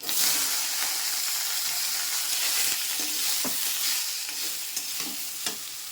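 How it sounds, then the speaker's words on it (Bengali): Bottle gourd and pumpkin leaves fry in hot oil in a wok, giving a continuous bright sizzle with occasional stirring clicks and scrapes, close and steady throughout. "কড়াই বসিয়ে দিয়েছি লাউ পাতাটা কুমড়ো পাতাটা ভাজবো"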